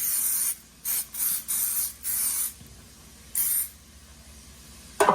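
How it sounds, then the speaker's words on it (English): Cooking spray hisses onto a bread pan in five bursts of varying length over about three and a half seconds, then a final short spritz after a pause; close and fairly loud, with no talking. "I'm gonna spray one pan"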